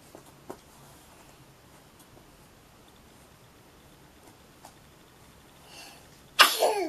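A single sharp sneeze bursts out near the end, following a quiet indoor stretch with a few faint clicks and a soft breath just before it.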